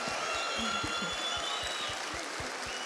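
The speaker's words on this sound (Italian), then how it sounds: "E allora io vi chiedo un grandissimo applauso per, diciamo insieme, Vincenzo Schettini!" Conference audience applauding physicist Vincenzo Schettini at his talk "La fisica che ci piace", a steady wash of clapping throughout with a rhythmic low thumping underneath, fairly faint and distant.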